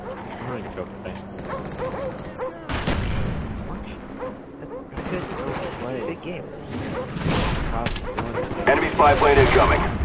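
Dogs bark and yip in a busy Call of Duty: Black Ops soundscape, mixed with gunfire-like bursts and a voice talking over the noise.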